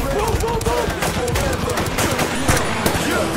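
Rapid automatic gunfire fills a loud, dense stretch of action, bursts overlapping with echoing blasts and effects, sustained throughout with no clear gaps.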